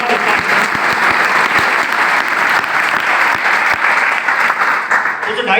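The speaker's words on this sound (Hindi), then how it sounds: "ताली जोरदार वाली बजाइए।" Loud, sustained applause from an audience at a Hindi motivational talk, dense clapping filling the whole stretch with a few sharper individual claps standing out, then easing slightly at the end.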